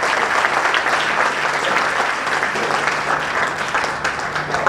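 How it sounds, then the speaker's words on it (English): Audience applause fills a party introduction meeting, a dense steady wash of many hands clapping, loud and continuous with no speech over it. "So a huge round of applause for all of us."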